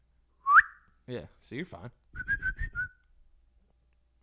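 A person whistles a sharp rising note, then a short run of warbling whistled pitches close up, with brief talk in between.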